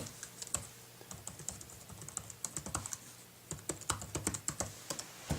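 Fingers tap a password on a MacBook Pro 13-inch (Early 2011) keyboard, a steady run of close, crisp key clicks with a short pause midway and no talking.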